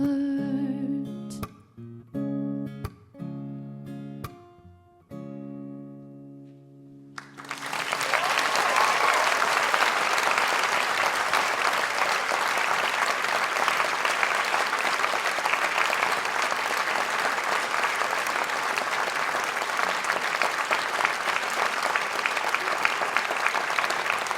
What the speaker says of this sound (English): That was very nice applause.